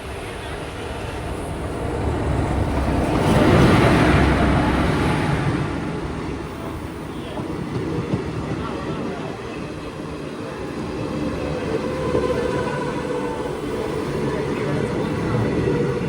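The Tirunelveli–Dadar Chalukya Express rumbles past a halted train, a broad, steady roar of wheels and carriages that swells and then holds at a constant level throughout.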